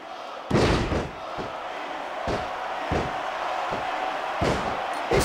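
A wrestling arena crowd in the video game SVR 2006 roars steadily, with heavy slams and thuds landing every second or so over the constant cheering.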